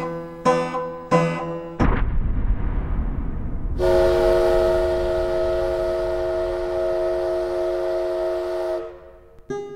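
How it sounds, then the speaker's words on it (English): A coal mine whistle blows in a long, steady, loud blast lasting several seconds, preceded by a few short rumbling bursts and machinery noise. "At 8:15 a.m., the mine's whistle blew."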